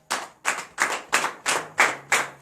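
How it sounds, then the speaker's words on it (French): A congregation at a morning prayer service claps in unison in acclamation, seven sharp, evenly spaced claps in a steady rhythm, close and loud with no talk. "Donne l'acclamation à cette parole."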